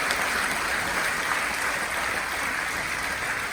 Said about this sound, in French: Je vous demande d'applaudir Martine.